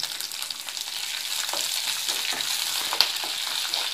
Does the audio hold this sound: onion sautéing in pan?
yes